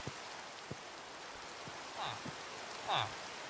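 Rain falls in a video game as a steady, soft, even hiss, broken by a few faint low thumps and two brief brighter chimes.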